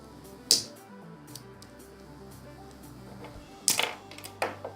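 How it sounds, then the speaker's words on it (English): A cutter blade pries open the plastic casing of a broken earphone, giving two sharp, close cracking snaps a few seconds apart, with faint ticks and a low background hum between them. "I will use a cutter to open this cabin."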